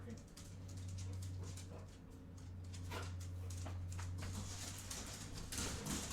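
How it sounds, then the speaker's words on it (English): Dogs scuffling indoors while being dog-sat, with whimpering and yelps over a steady low household hum, fairly faint throughout; a person's voice is heard near the start. "Oh, these dogs are fighting."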